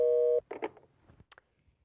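A short burst of telephone busy signal, then it cuts off and faint clicks and handling noises follow.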